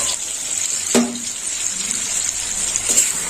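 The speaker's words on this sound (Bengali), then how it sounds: "এই বাটি ধুয়ে একটু জল দিয়ে দেবো" A bowl is rinsed under running water and then filled, with a steady close gush and splash from a tap, a brief clatter of the bowl near the start and another knock toward the end, while a potato curry cooks.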